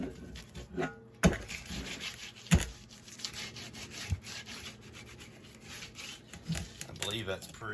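A brush or pad scrubs rust from the handle of a cast iron skillet in uneven strokes and scrapes, with sharp knocks and a voice talking between them.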